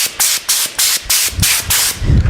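Short bursts of compressed air hiss loudly and close up, about six pulses in quick rhythm, blowing dust out of the routed grooves of a carved wooden sign.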